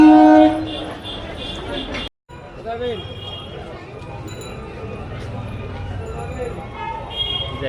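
A train at a railway station, opening with a loud horn blast, then a busy rumbling platform ambience with clanks and voices talking throughout.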